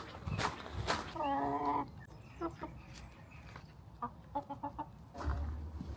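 Several chickens cluck and squawk nearby in short bursts, with a few louder drawn-out calls and quiet pauses between.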